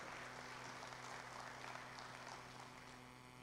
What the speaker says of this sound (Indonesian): Kita beri tepuk tangan yang meriah untuk Grand Batang City.